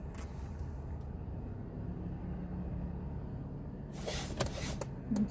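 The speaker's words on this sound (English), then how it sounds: "And so many cars." Steady road traffic rumbles throughout on a busy street, with a car passing closer near the end, a brief higher hiss and a faint thud over the low, continuous roar.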